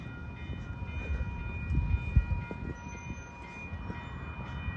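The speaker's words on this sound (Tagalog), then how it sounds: "Paalis na yung train." A train pulls away from a station in smoggy weather, a low, fairly distant rumble with a faint horn-like tone holding steady over outdoor background noise.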